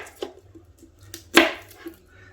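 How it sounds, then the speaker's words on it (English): A knife slicing a red bell pepper into thin strips on a cutting board, with a few soft taps and one sharp, louder cut standing out, close and without talk. "We can just cut a red bell pepper into thin strips."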